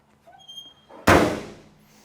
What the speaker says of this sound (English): Trunk lid closes nice and secure, nice and tight.